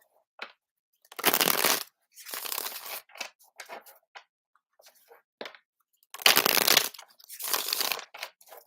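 Tarot cards being shuffled during a live reading, in several loud bursts of riffling and flicking with short pauses between, close and alone with no talking.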